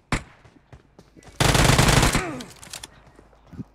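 Automatic gunfire in the mobile battle-royale game BGMI: a single sharp shot, scattered faint clicks, then a loud sustained burst of about a second that tails off into quieter game noise.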